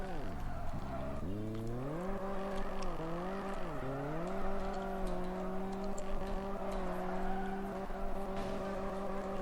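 A car drifts in the video game Drift Streets Japan, its engine revving and wavering in pitch as the tires squeal, the sound loud and close, sustained and swooping through the slide.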